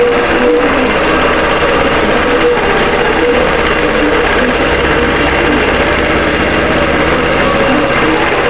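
An embroidery machine stitches a design, a loud, continuous mechanical chattering with rapid needle pulses over a steady motor drone, close up and uninterrupted.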